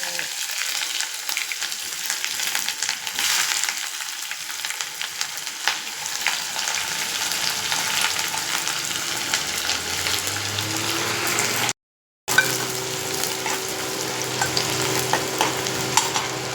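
Fennel, cinnamon, clove, cardamom and onion fry in hot oil for a Chettinad chicken gravy, giving a steady, close sizzle with faint stirring, broken by one brief dropout near the end.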